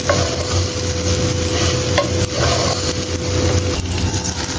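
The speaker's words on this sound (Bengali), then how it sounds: "চাল একদম শব্দ করতেছে, সর সর শব্দ করতেছে, চাল ভাজা হয়ে গেছে মোটামুটি।" Rice for biryani fries in a pot with potatoes and meat, giving a loud steady sizzle while a spoon stirs and scrapes it in repeated strokes, with a low hum beneath.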